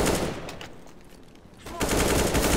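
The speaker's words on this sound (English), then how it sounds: "Oh, he shot that guy through smoke!" Automatic gunfire in the video game CS:GO, rapid loud bursts of shots that drop briefly and then resume.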